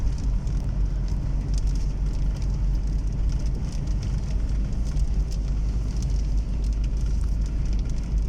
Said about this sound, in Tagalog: Ambon na, maambon na.